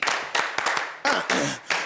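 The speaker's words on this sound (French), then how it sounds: "Alors tout le monde en applaudit pour ça." An audience at a live French-language music show claps hands in a quick burst of uneven, overlapping claps, fairly close and loud, with no talking over it.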